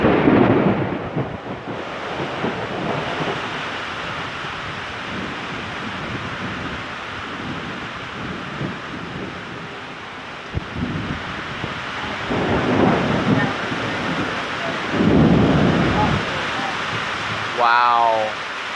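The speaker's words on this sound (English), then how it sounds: "Hear all the thunder." A severe thunderstorm with a microburst, very heavy rain and damaging winds: a loud, steady roar of downpour and gusts runs throughout, with deep rumbles of thunder swelling now and then.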